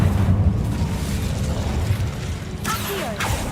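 An Incendio fire spell is cast in the Hogwarts Legacy video game, a heavy whooshing burst over low rumbling, followed by two sharp crackling flares near the end.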